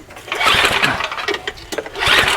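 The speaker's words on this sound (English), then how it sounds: "I'm going to try to start it one more time" Ariens snow blower engine cranking and catching, a rough mid-pitched motor roar that sputters and surges through the short stretch, loud and close with no talk.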